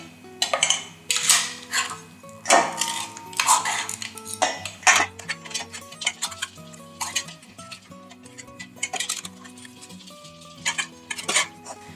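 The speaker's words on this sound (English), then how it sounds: "That'll melt as I'm starting to mash the potato." Potatoes are being mashed with butter in a metal pot, with repeated sharp scraping and clanking of the masher against the pot in an uneven rhythm, close and clear with no talking.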